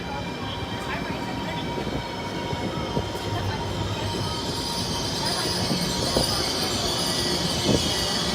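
A Chinese bullet train arriving at a station platform, a loud rolling rumble with squealing wheels and rising mechanical whine that grows nearer, while a station announcement plays over it.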